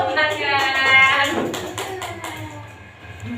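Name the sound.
children clapping in classroom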